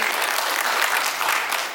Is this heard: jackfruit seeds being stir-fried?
no